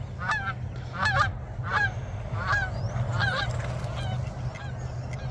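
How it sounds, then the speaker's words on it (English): A pair of non-migratory resident geese honking as they fly overhead, repeated nasal honks in an irregular rhythm, fairly close, over a steady low outdoor rumble. "a pair of geese right over us"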